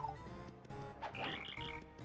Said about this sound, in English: our hammer sounds like a cricket.